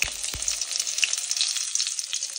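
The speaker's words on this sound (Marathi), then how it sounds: "आता आपण तेलामध्ये थोडीशी जिरे टाकू आणि थोडीशी मोहरी टाकू आणि भरलेले वांगे परतायला टाकू" Stuffed brinjal with cumin and mustard seeds frying in hot oil gives a steady, close broadband sizzle, with a couple of sharp pops at the start and no talk.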